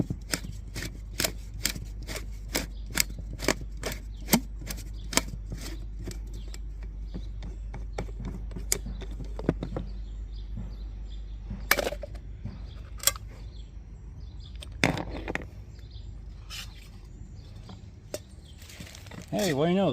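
A Walmart oil filter is cut open by hand, giving a quick, even run of sharp snipping clicks up close that slows to sparser, scattered cuts and scrapes against a low steady hum.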